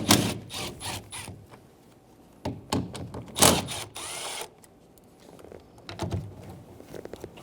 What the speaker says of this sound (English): Using a 10mm socket, remove the 3 nuts for the mirror.